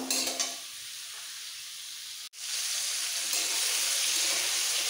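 Pointed gourd (potol) fries gently in oil in a pan with a steady, close hiss of sizzling, briefly cut off for an instant midway before resuming evenly.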